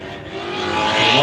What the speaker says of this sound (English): So the two element buggies out there doing battle.